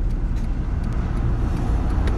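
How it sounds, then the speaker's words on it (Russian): A bus driving off on a road: a steady, loud low engine rumble with traffic noise, close by, continuous with no talking. "Сейчас автобус оттуда... Автобус сдрыснет."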